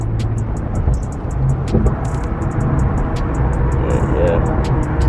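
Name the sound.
Infiniti Q50 twin-turbo engine with muffler delete accelerating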